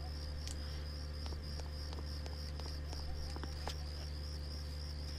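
Crickets chirp steadily as ambient night sound in the video game Persona 4, a faint, regular pulsing over a low constant hum with no music.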